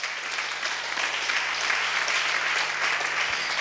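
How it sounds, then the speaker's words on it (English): A church congregation applauds during a sermon, a dense, even wash of many hands clapping at once, sustained and fairly distant with no voices over it. "Now, if you are clapping for God, do it better."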